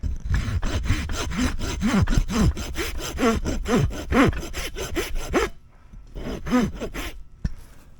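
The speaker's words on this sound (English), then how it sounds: "you can see the 2 swipes I did with the rasp on the back here" Farrier's rasp worked across the back of a horse's hoof, a loud rhythmic series of coarse strokes, about a dozen in quick succession, then a pause and a few more scrapes close by.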